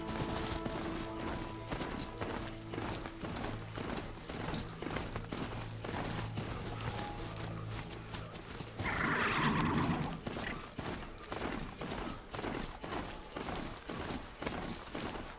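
Horse mount in the video game Horizon Zero Dawn galloping steadily with rhythmic hoof clip-clops throughout, a louder burst of motion and a brief neigh partway through, layered over game ambience and music.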